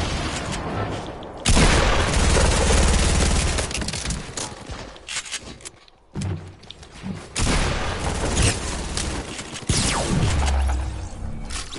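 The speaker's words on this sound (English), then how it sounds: "Who's throwing grenades?" Repeated booming blasts and bursts of gunfire from a multiplayer shooter video game, loud and close, coming in heavy waves with brief gaps between them and no talking.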